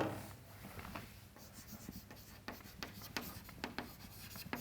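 Marker or chalk strokes scraping across a board in a lecture room, a run of short, irregular scratches and taps at moderate level with faint room noise and no talking.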